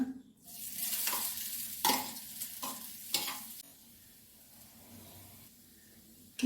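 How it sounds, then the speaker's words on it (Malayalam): Ground coconut fries in ghee in a pan for payasam, a continuous close sizzle broken by several scraping stirs of a spoon, easing to a softer hiss in the second half. "നമുക്ക് ഒരു അഞ്ച് മിനിറ്റ് വറുത്തിയെടുക്കണം ഈ നെയ്ക്കകത്ത് തേങ്ങയൊന്ന് വരട്ടിയെടുക്കണം"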